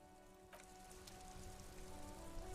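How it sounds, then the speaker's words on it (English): Rain ambience from the Disco Elysium video game: a steady, faint patter of rain on surfaces with a constant low hum underneath, gradually building slightly, no voices. "This rain will not let up anytime soon."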